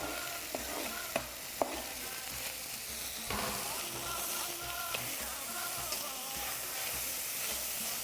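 Chopped onion sizzles steadily in a hot pan for a chicken tagine, a dense continuous frying hiss with a few sharp pops and clinks of stirring.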